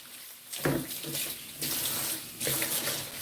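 Fresh coriander being rinsed under a running kitchen tap, water gushing and splashing close by in three surges as the bunch is moved through the stream.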